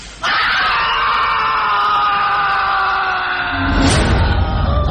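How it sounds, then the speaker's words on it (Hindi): A horror-story sound effect of a man's terrible scream fills a house: one loud, sustained, anguished cry lasting several seconds, swelling into a rougher, noisier howl near the end. "उसके साथ आरिफ की एक भयानक चीख गूंज पड़ी उस पूरे घर में।"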